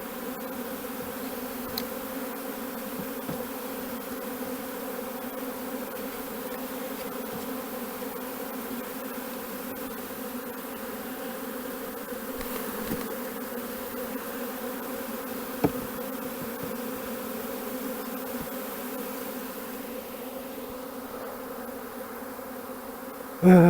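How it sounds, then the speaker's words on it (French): A honeybee swarm descending from a tree fills the air with a continuous, even, many-voiced buzz at moderate distance, steady for the whole stretch with only faint incidental knocks. "Je vais faire rentrer les abeilles."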